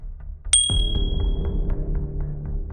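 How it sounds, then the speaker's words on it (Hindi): A soft electronic ding chimes once, a bright two-tone notification ping that rings briefly before fading under a low ambient hum. "फोन पर मैसेज आने की हल्की सी आवाज से मानसी की आंख अचानक खुल गई।"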